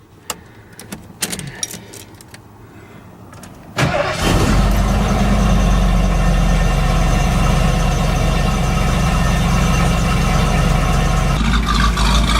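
Quiet clicks and shuffling, then an older engine cranks and catches around four seconds, settling into a loud, steady, rough idle close by.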